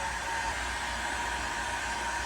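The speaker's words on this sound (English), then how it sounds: "Now, some people may think this is just your ordinary everyday hairdryer, but it's not. This is a heat gun." A heat gun runs steadily, a constant close whirring blow with an even airy roar and a faint tonal hum. It neither rises nor fades, and nobody talks over it.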